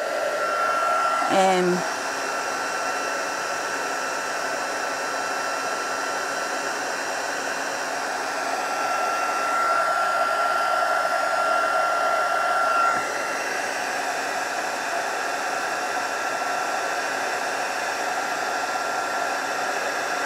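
A heat tool blows a steady, loud stream of hot air while melting embossing powder on a handmade card, a constant whooshing hum with a faint high tone running throughout and a brief click near the start.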